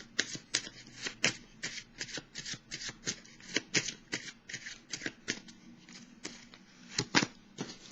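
A deck of tarot cards is shuffled near the listener in quick, rhythmic riffles. Crisp papery snaps repeat steadily for about eight seconds, with no voice over them.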